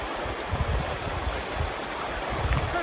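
Small rapids on the Turon River run in a soft, continuous rush of flowing water, fairly quiet and with no other sounds.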